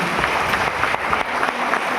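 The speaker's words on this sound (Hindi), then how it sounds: "जोरदार ताली होना चाहिए।" A crowd at a company team meeting claps continuously in a dense, even patter, with faint background noise and no speech.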